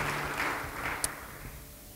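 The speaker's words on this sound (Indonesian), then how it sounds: "Beri tepuk tangan bagi Dia." Applause from a church congregation during a worship service, a steady broad wash of clapping that fades slightly toward the end, with no voices over it.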